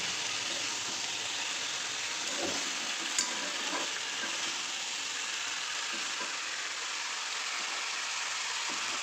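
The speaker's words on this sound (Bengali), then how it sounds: "বেগুন আলু তিল সব দিয়ে দিয়েছি দিয়ে এগুলো আস্তে আস্তে কষাতে থাকি" Eggplant, potato, sesame and other vegetables sizzle as they are stir-fried in a pan. A steady, close frying hiss runs throughout, broken by a few scraping stirs of a spatula.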